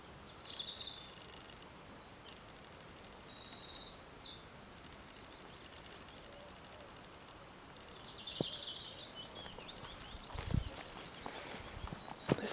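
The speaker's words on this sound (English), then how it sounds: "Birds are just singing away." Wild birds singing outdoors in the countryside of western Ireland, with light, high chirps and short trilling phrases at a moderate distance. A quiet pause follows, then more song and a few soft thuds near the end.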